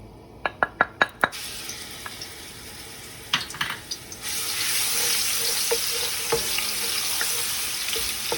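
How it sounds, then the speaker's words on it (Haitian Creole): Crushed garlic fries in a hot pot for Haitian djon djon rice: a few sharp knocks and taps come first, then a steady, close sizzle rises and holds to the end. "moi pral mettre dans chaudian pour l'ail la ka frit"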